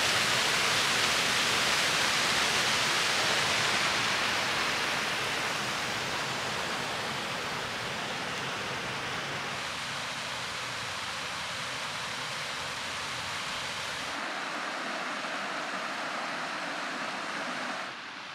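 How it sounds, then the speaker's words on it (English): Steady, loud roar of a waterfall in a snowy Ozarks forest in extreme cold, a continuous broadband rush that fills the whole stretch with no voices and eases slightly near the end. "Let's go check out the waterfall"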